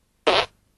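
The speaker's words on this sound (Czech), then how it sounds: "Holčičí prd." A short, high, breathy fart sound effect gives a single quick puff, about a quarter second long, with a clean start and a fast fade into silence.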